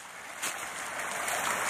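A small brook flowing beside a campsite, a steady broadband wash of running water that holds even and close throughout with no voices.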